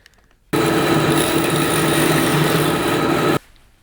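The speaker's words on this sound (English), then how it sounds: "we're just going to cut this on the bandsaw again" A bandsaw cuts through a wooden craft knife handle, a loud, steady buzzing roar starting abruptly and holding constant for about three seconds before cutting off, close by and without talking.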